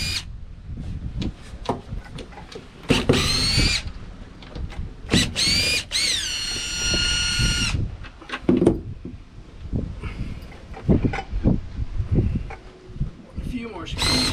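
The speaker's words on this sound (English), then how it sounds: "now I'm just getting the last few screws on this tank cover" A power driver running screws into a gas tank cover on a boat's deck, short bursts of whirring rising in pitch between pauses, up close with handling clatter.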